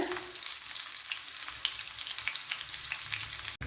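Shallots fry in hot oil after mustard seeds have popped, making a steady, bright sizzle with crackling close by and a brief clink near the end.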